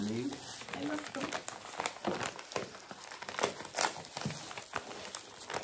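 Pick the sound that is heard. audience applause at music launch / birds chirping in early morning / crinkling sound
crinkling sound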